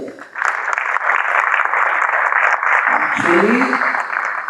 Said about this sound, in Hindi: उनके लिए एक बड़ा जोर से ताली बजाई.